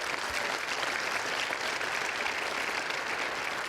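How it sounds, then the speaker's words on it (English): An audience at a swearing-in ceremony for government appointees breaks into steady, dense applause that fills the room evenly from start to finish, with no voices rising above the clapping. "Let's have a big round of applause for all of the appointees."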